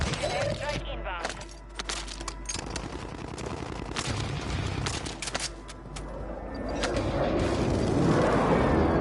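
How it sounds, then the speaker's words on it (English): Precision airstrike explosions and gunfire in a video game, a dense barrage of sharp cracks and heavy booms, loud and close, building into a roaring rumble near the end, with a voice speaking over it. "Friendly precision airstrike inbound."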